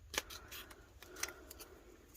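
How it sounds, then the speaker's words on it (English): Quiet snips of scissors trimming a small overhang of material on a decorated tumbler craft, several light crisp cuts spaced irregularly, close to the microphone with no talking. "I'm going to have to trim that little overhang off though"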